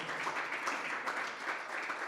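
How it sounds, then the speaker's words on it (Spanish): A church congregation claps together in a steady, lively burst of applause that fills the room, with no voices standing out. "Ahora sí, dale palmas al Señor."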